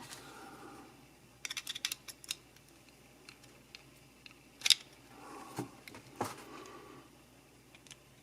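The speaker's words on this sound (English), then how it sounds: "the last thing we have to do to lock this all together is tighten this screw." A screwdriver tightens a small screw on the needle thread tension assembly of a Singer 306K sewing machine, producing faint scattered metallic clicks and light scrapes, close by and quiet.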